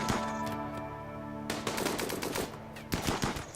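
Battle gunfire in the colony game Rimworld: rapid overlapping bursts and rattling shots over a steady tonal game hum, dense in bunches with short gaps and no voices.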